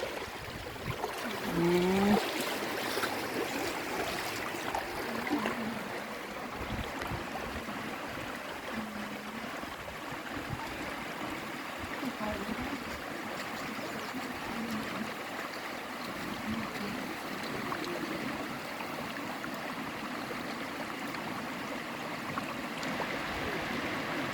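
A stream flows after rain in rural northeastern Thailand, a steady wash of running water with a light trickle, continuous and moderately close.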